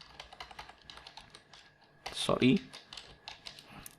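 Someone types a command on a computer keyboard, a faint run of soft key clicks with one louder tap in the middle, recorded quietly close by.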